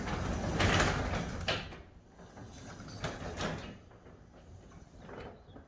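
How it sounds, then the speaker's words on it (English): A residential garage door with newly adjusted springs is lifted open by hand. A few soft rolling and sliding bursts are heard at close range, with quiet gaps between them. "we're going to go ahead and lift the door up, check the balance again"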